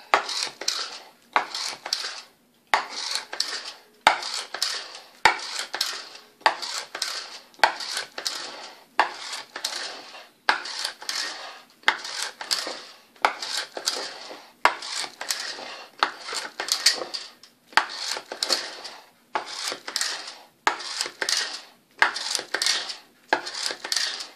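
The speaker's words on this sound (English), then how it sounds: "Mix them all well." A utensil scrapes and clinks against a bowl while chocolate brownie batter made with margarine is mixed. Regular, evenly spaced strokes of about one per second continue close by for the whole stretch, with brief pauses between them.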